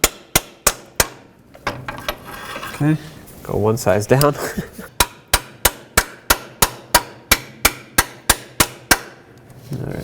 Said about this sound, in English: I'm going to use an extractor socket and just hammer it on here